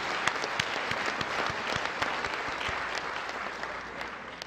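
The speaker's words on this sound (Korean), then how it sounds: "우리 하나님 앞에 다시 한번 영광의 박수를 올려드리겠습니다" Sustained applause from a large audience at a national prayer breakfast in Korea, dense steady clapping at moderate level with a few sharper individual claps standing out throughout.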